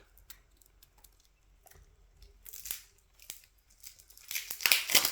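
Sealed packs of board game cards are torn and cracked open at close range, giving a series of sharp crinkling, ripping plastic sounds that grow louder and denser toward the end.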